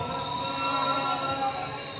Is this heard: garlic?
no